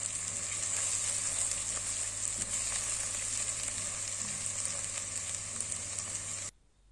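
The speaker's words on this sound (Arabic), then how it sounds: "بعد ما فرمت البصل والثوم حطيتهم في الزيت عشان يتحمروا." Chopped onion and garlic sizzle steadily in hot oil, a close, dense frying hiss with a low hum underneath that runs unbroken for several seconds before cutting off abruptly.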